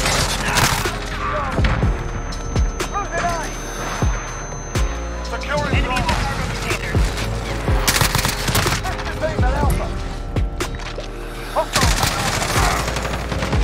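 Rapid bursts of M4A1 rifle fire in the shooter game Modern Warfare, loud and near, with sharp repeated shots and short pauses between bursts as someone talks over the gunfire.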